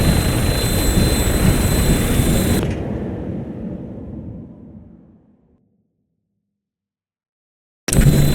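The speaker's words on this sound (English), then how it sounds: "Flying around in a 200-year-old aircraft?" Aircraft engine of a 200-year-old plane in Fallout 4 roars loud and steady, then fades out into silence before cutting back in abruptly at the end.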